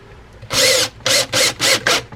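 A drill drives a 1 1/4 inch sheet metal screw into pre-drilled scrap pine: five close, loud whirring bursts, the first longest, with short gaps as the screw bites in.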